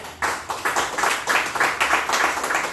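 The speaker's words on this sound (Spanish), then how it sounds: "Dale palmas a Cristo." A church congregation claps hands for Christ during a Spanish-language discipleship service, a steady rhythmic stream of many hands clapping in unison, fairly loud and roomy, with no speech over it.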